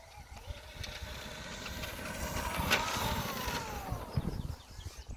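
A Traxxas UDR radio-controlled truck driven at full throttle outdoors gives a steady, fairly quiet electric motor whine and rumble that swells as it approaches and fades slightly, with no talking.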